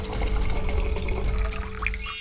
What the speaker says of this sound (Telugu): ఇప్పుడు మనం కుక్కర్ నిండా హాట్ వాటర్ అయితే నింపేద్దాం